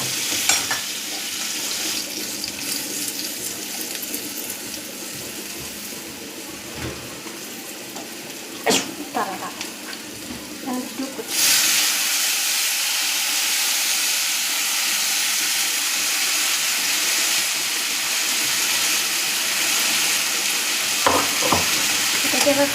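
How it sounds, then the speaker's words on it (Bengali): Panch phoron spices and vegetable stalks for shukto fry in a pan while being stirred, with scraping and clattering at first, then a loud, steady sizzle that swells abruptly halfway through and continues, nearby and alone. "এবার ভালো করে নেড়ে চেড়ে নেব, মিনিট ধরে কষিয়ে নেব।"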